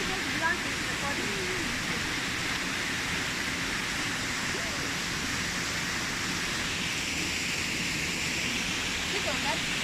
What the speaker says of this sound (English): So already here, you can hear the sounds of the water.